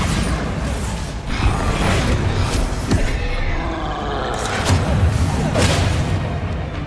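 Bombarda spell blasts from Hogwarts Legacy combat land as several heavy booming crashes with rumbling, creaking debris, loud and close, in a churning fight soundscape.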